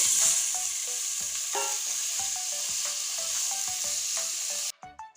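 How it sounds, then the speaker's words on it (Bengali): Salted potatoes and bitter gourd frying in hot oil, a steady close sizzle with regular clinks and scrapes of a spatula, the crackle dropping away abruptly near the end. "এখন আমি এই তেলের ভিতরে দিয়ে দেব করলার আলু লবণ মাখানো ছিল দিয়ে দেব"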